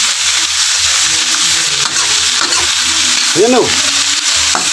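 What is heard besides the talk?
jackfruit being sautéed in a pan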